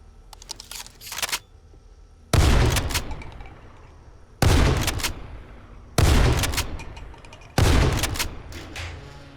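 Gun loaded with breaching rounds in the video game 7 Days to Die, several heavy booming shots spaced a couple of seconds apart, each with a long decaying tail, close and loud.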